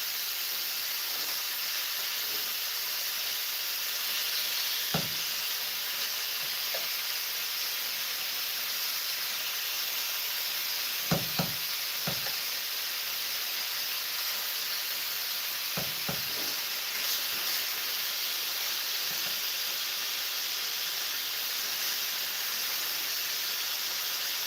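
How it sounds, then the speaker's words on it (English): Steady sizzling of steaks frying in a pan, a constant hiss with a few faint clinks and taps, no talking. "Just steaks frying in a frying pan."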